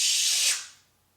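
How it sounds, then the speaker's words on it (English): Aerosol spray paint hissing onto a fishing reel in one steady burst, close and fairly loud, then tapering off to silence. "So you start spraying over here."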